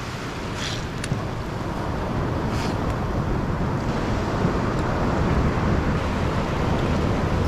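Steady rushing of surf and wind noise, a continuous broad wash of water churning against rocks with no voices.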